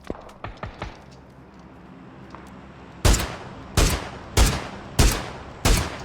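Five loud, sharp gunshot blasts from the video game PUBG fire at steady intervals, preceded by a few fainter pops and quieter background noise.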